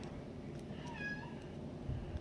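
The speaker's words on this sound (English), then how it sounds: "my cat's yelling at me" A pet cat meows once in a drawn-out, wavering cry at mid-clip, fairly close but soft against a quiet indoor background.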